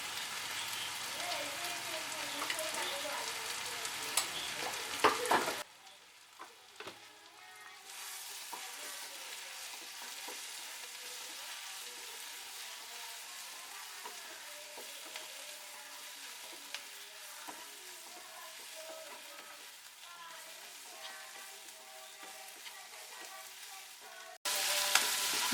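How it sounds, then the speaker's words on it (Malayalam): Onion-egg masala sautéing with chili powder and pepper powder, a steady soft sizzle with light stirring scrapes running throughout, briefly louder at the start and end. "മുളകും കുരുമുളക് പൊടിയും കൂടി ഇട്ട് നന്നായിട്ട് ഒന്നുകൂടെ വഴറ്റിയെടുത്തിട്ടുണ്ട്"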